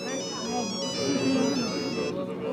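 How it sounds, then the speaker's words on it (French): A mobile phone ringtone at a Buddhist gathering in Mongolia, a steady electronic melody of repeated tones ringing fairly close for a few seconds while voices and background chatter continue underneath. "Un fidèle décroche son téléphone portable."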